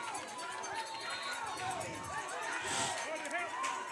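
A crowd of about 1,000 at a preseason UFL football game makes noise: a continuous mass of cheering and chatter with scattered voices, holding steady and rising slightly in the second half.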